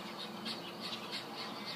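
Pheasants squawk outdoors on a ranch lawn on a morning, giving repeated short, fairly faint calls over a steady background hiss.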